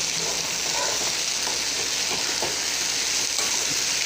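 Cashews fry in plenty of ghee, giving a steady, close hiss of sizzling oil that runs unbroken and fairly loud throughout.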